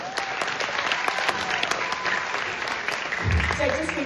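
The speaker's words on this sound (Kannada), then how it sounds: "ಬರ್ಲಿ ಜೋರಾದ ಚಪ್ಪಾಳೆ." Audience applause at a singing competition finals in Toronto, steady and fairly loud as a crowd claps through the whole stretch, with a voice briefly coming in near the end.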